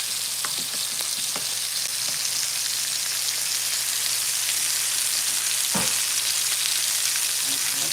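Pork chops sear in a hot pan with a steady, even sizzle and crackle throughout, close and unbroken, with a few faint utensil knocks.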